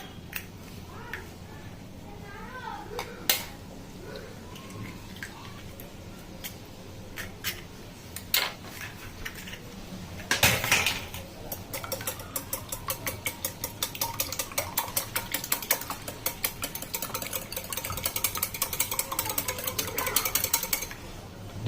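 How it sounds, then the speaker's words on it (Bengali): Two eggs beaten in a bowl for mango pudding, a rapid rhythmic clatter of a whisk or fork against the bowl, starting in short bursts and becoming continuous and fast, close and fairly loud. "ডিমটাকে ভালো করে গুলে নেব।"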